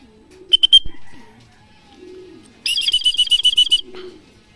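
Racing pigeons returning from a 105 km training flight in Lupao, Nueva Ecija coo softly in low murmurs, broken by a burst of close, rapid wing flapping.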